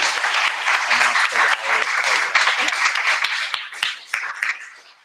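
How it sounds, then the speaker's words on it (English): A convention audience bursts into steady, dense applause that fills the room, holding strong before thinning out toward the end, with a few voices mixed into the clapping. "Let's give a round of applause."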